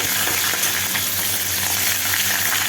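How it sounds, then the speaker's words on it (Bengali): Onion, bay leaf and garam masala fry in hot oil in a pan, a loud, dense and continuous sizzle heard up close and unbroken throughout, with no talking. "প্রথমে একটু পেঁয়াজ, তারপর তেজপাতা, গরম মশলা একটু ভেজে নিলাম।"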